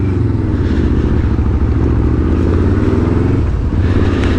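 A big motorcycle engine revs up close, producing a loud, continuous, throbbing rumble with a rough, pulsing texture that barely lets up throughout.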